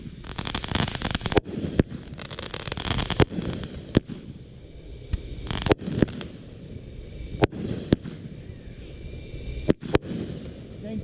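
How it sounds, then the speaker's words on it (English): A backyard fireworks display fires shots one at a time, producing loud sharp bangs at irregular intervals amid crackling bursts and rolling outdoor rumble, with no clear speech. "Dang, 36 shots one at a time?"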